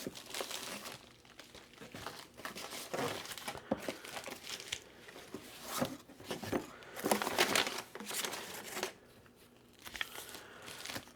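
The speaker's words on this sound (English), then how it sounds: "I've got this box of bubble mailers." A box of bubble mailers is handled up close, with crinkling and rustling of plastic and padded envelopes in irregular bursts, some louder scrunches, and a few soft thumps.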